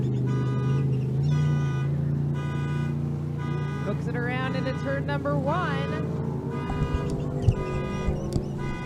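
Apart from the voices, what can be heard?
car alarm going off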